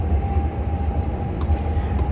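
A metro train runs through an underground line in China, a steady, loud rumbling drone with a constant hum and faint squeals from the rails, heard without any talking.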